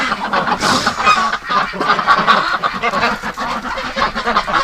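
Wintering ducks and geese call in a dense, overlapping chorus of quacks and clucks, close and loud, in cold, windy, snowy weather.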